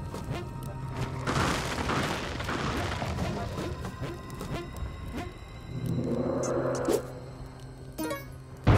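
Bombs going off in the Spelunky 2 video game, a loud booming crash that rolls into a sustained rumble, followed by another thudding blast later and a sharp hit at the very end.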